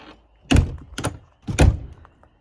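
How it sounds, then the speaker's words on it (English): A truck camper door is pushed shut in a few solid thunks, two close together then a heavier one, loud and near with no talk over them. "So we're going to close the door."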